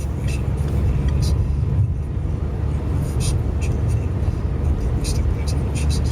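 A car drives steadily along a road in the Falkirk District of Scotland near Clackmannan and Airth while overtaking a truck, with a constant loud low engine and road rumble throughout and a voice talking over it.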